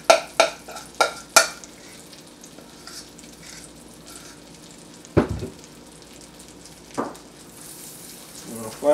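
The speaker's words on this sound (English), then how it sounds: "I'm going to heat this up and then cook it in the pan" Sourdough acorn bread batter dropped into a hot pan, giving several sharp sizzling bursts at the start and then quieter sizzles and a couple of scraping clinks, heard close up without speech.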